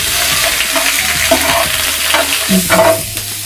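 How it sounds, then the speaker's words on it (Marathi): Onion pieces sautéing in a small ladleful of oil for a gravy, giving a steady close sizzle and frying hiss with intermittent stirring scrapes, no voices. "एक फळी तेल टाकते आहे हे बघा आणि परतून घेते"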